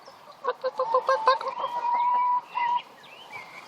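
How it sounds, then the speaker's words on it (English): Several chickens cluck close by, a run of short rhythmic clucks followed by longer drawn-out calls and softer murmuring, with no talking. "See, there's the chickens."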